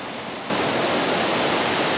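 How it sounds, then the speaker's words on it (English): Steady loud rushing roar of a waterfall beside a wet bush walking track in Victoria, Australia, starting quieter then surging fuller after a moment and holding constant, with no voices. "I've dared Lil to go like close to the waterfall."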